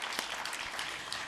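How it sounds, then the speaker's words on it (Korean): A church congregation at a Sunday worship service claps together in a brief burst of applause. "하나님께 영광의 박수 올려드립니다."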